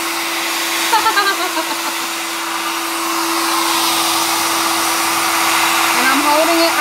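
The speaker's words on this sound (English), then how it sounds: "So let's get our hairdryer out." A hair dryer runs steadily on its low setting, a continuous whirring hum with a constant motor tone, close by and fairly loud throughout.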